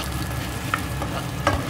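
Blended tomatoes and onions stirred in a pot for a Ndongo Ndongo stew with smoked pork: a close, continuous low sizzle with a couple of soft spoon scrapes and no voices.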